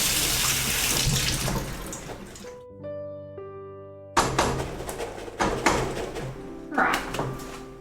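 Tap water runs loudly into an empty bean can being rinsed in a kitchen sink. The splashing gushes, stops briefly while a soft tonal hum carries on, then resumes in uneven surges.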